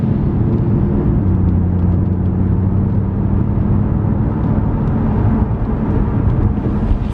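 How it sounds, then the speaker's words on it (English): A salvaged 500 bhp rear-wheel-drive Mercedes C63 drives gently on a wet road, a steady loud low engine drone and road rumble heard from inside the cabin. "First time driving a 500 brake horsepower rear wheel drive C63"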